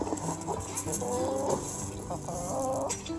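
Backyard chickens cluck steadily at close range in a repeated, choppy pattern, with other farm-yard activity faintly in the background and no talk over the birds.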